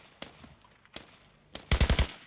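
Gunfire in the tactical shooter game Squad: a few scattered distant shots, then a close, loud rapid burst of four or five automatic rounds, with no talk over it.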